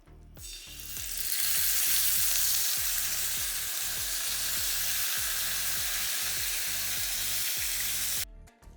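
Four to five tablespoons of cooking oil heating on an 11 by 7 inch sizzler plate over a low to medium flame, giving a loud, continuous crackling sizzle that builds quickly and then holds steady before cutting off abruptly.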